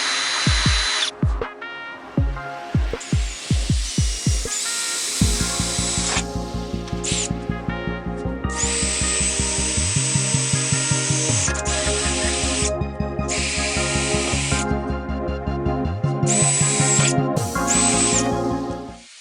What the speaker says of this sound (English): continue drilling until I finish the hole